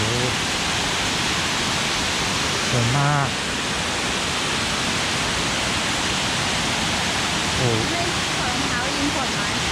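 Kroeng Krawia waterfall in western Thailand pours as a steady, close hiss of rushing water, while people speak briefly a few times over it.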